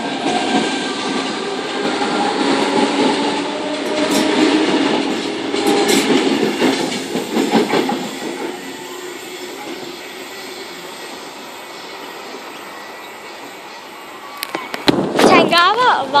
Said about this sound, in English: Tangara arriving platform number 3.